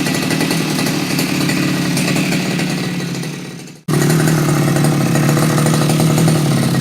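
A small two-stroke brush cutter engine, just after carburetor tuning, revs loud and close, drops briefly to near silence, then picks up again into a steady high rev.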